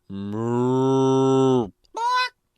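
A cow moos loudly in one long, drawn-out low call, then after a short pause gives a second, briefer and higher moo.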